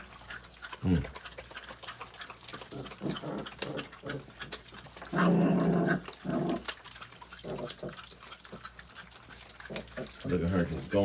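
Cane Corso puppies, five to six weeks old, growl and scuffle while eating raw chicken, with bursts of grumbling and chewing noise close by, mixed with someone talking and some watery background sounds.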